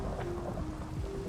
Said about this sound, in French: C'est la première fois que je joue du tonnerre!